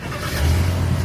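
The V8 engine of an all-wheel-drive 2018 Jeep Grand Cherokee runs close by. It rises into a loud, deep, steady rumble and holds there.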